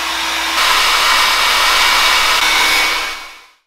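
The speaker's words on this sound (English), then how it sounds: "just got the hairdryer on there" Hair dryer blowing on jointing compound texture to semi-set it on a sycamore bowl, a loud steady roaring whoosh held for about three seconds before switching off and fading away.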